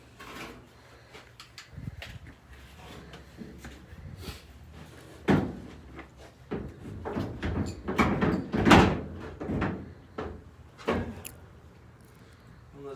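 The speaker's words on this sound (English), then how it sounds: "let's go ahead and put that door on" A car door being lifted and fitted onto a Mustang's door frame gives scattered metallic clunks and knocks of moderate loudness. They come close by, with a few sharper bangs in the middle.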